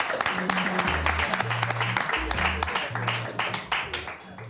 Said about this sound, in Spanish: Fuerte aplauso para el Mago Llorens.